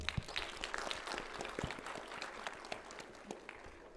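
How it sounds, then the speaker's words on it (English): An audience at a Smart India Hackathon 2025 valedictory session applauds, a dense, steady clapping that holds for the whole stretch at moderate level with no speech over it. "let's clap for them."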